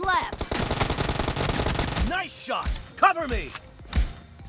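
An SMG fired from the hip in the BGMI mobile shooter rattles off a rapid, loud burst of automatic gunfire, followed by scattered shots, with a voice talking over it.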